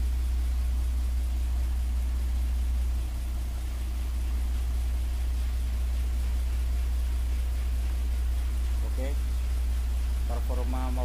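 A car lifter vehicle's engine idles aboard a car carrier ship, a steady low rumble with constant background noise throughout, while a voice talks over it and a few sharp clicks come near the end.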